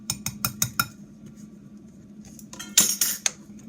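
A whisk clinks quickly against a bowl while ground cinnamon is mixed into banana bread batter. There is a burst of rapid metallic taps, then a quieter stretch, then a second, louder flurry of scraping clinks near the end.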